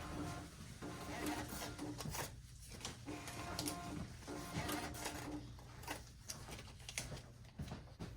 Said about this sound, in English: It's going to take a second and print you out some receipts.